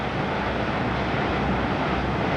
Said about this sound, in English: There's an airplane taking off from LaGuardia just to the left of the Whitestone Bridge.